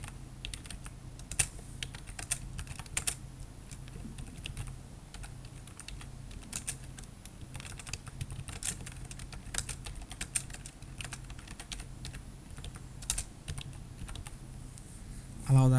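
Steady typing on a computer keyboard, soft close clicks in an even irregular patter continuing throughout, fairly quiet and alone.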